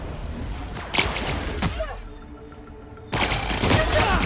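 An area-of-effect weapon firing in the sci-fi shooter The Outer Worlds, giving a few sharp cracking shots with whooshing tails amid combat noise, then a sudden quiet gap before the loud action resumes.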